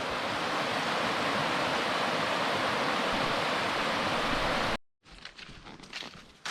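A river in Spain pours over a broken weir, a loud, even rushing roar of water that cuts out abruptly near the end, then returns more faintly with scattered splashes.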